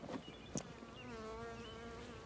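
Honey bees buzz in close during a hive inspection and honey harvest, a steady droning hum with individual bees whining past and a couple of brief knocks at the start.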